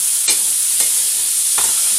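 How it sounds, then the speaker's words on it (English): Frozen mixed vegetables fry in a hot pan with a steady, loud sizzle, broken by three short scraping stirs at roughly even intervals, with no one talking. "Going to fry the vegetables."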